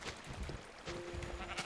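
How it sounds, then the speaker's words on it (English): Sheep bleating inside a blocky survival video game, a short tonal bleat rising over busy game noise and background sounds, fairly faint. "Sheep!"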